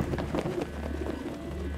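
A pigeon coos in the video game Prey, a few soft, throaty murmurs over a low ambient hum, fairly close and alone without speech.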